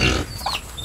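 A growing pig in a small family piggery grunts nearby, a short low rumbling grunt over a noisy background, no voices.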